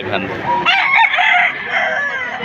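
A rooster crows once, loud and close, at a chicken sale in Padre Garcia, Batangas, over a busy background hum of other birds and murmur.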